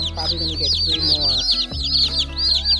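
Chickens kept as egg layers and meat birds cluck and peep close by in a steady overlapping chorus of short chirps, with someone talking over them at the same time.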